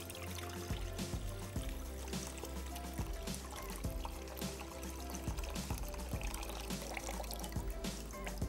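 Water poured into a pot to cook broccoli, a continuous faint trickling stream running steadily under low background hum and scattered clinks, fairly quiet and close.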